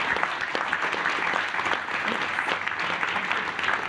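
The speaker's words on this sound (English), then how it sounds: "I think they deserve a big round of applause" Conference audience gives the team a round of applause, steady even clapping from a sizeable crowd at moderate level, continuous throughout.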